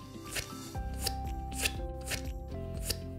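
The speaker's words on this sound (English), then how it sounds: "The most interesting thing about scissors is the noise they make." Scissors snip in a string of rhythmic cuts, sharp crisp bursts about every half second over steady background music, with no talk.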